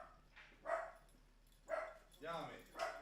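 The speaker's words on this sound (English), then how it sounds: "Hold on, my dogs are barking." Dogs barking indoors, three or four separate short barks with pauses between, fairly close but modest in level.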